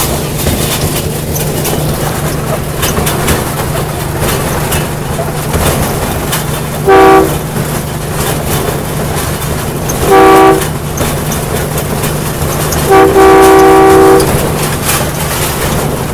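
Loud steady rumble of a moving train with rhythmic rattling, broken by three blasts of a train horn, the last one longest.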